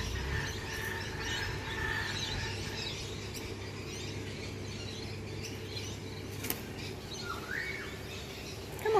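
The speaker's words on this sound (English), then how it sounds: "This is the butcher bird again." A butcher bird calls outdoors among other birds, with short chirps and one rising whistled phrase near the end over a steady low background hum, faint and fairly distant.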